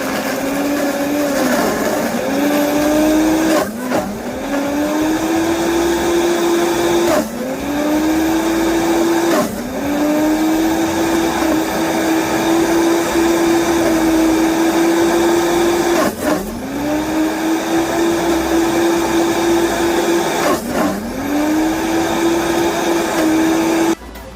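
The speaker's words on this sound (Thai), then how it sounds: "ใช้เครื่องปั่นยี่ห้อชาร์ปนะคะ" A Sharp blender whirs loudly and steadily, blending a red soda and lime iced drink. The motor drone is broken by several short pulses where the pitch dips and then climbs back, with no talking over it.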